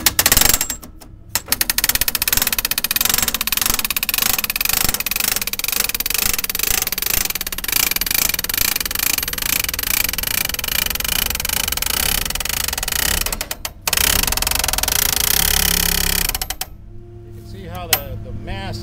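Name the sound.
truck-mounted hammer driving soil probe into ground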